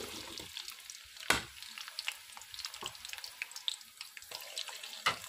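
Roughly chopped onions dropped into half a cup of oil in a pot, a soft sizzle with scattered crackles and a few sharper clatters, fairly quiet.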